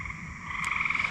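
Bullfrogs croak on a summer night in Pennsylvania, a steady layered chorus of frog calls with a faint trill carrying through the dark.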